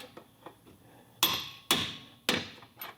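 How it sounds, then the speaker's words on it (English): A hammer strikes a lower control arm bolt on a 2002–06 Toyota Camry, three loud sharp metallic blows about half a second apart plus a few lighter taps, close and without talk. "you hammer the bolt"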